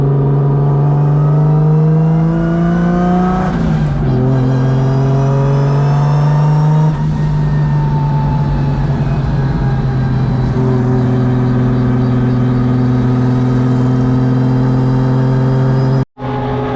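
A drift car's engine holds loud, steady revs at Hyperfest 2024, its pitch shifting in several steps between sustained droning plateaus, close and without talk, until a brief cut near the end.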